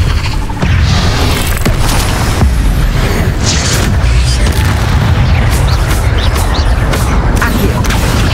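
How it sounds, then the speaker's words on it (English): Incendio fire spell cast in Hogwarts Legacy, a loud booming burst that runs continuously across the whole stretch, thick with low rumble and layered game effects. "Incendio!"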